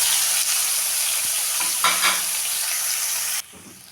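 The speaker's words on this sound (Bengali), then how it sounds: "তো চিংড়ি মাছ পেঁয়াজ দিয়ে আর বেগুন দিয়ে ভাজা হয়ে গেল।" Shrimp, onion and brinjal frying in a pan, a close, steady hiss of sizzling oil with a few stirring scrapes, ending abruptly.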